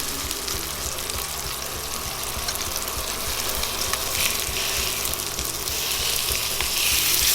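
A rack of lamb sears in olive oil in a skillet with a loud, continuous sizzle and crackle. The frying hiss grows slightly stronger toward the end.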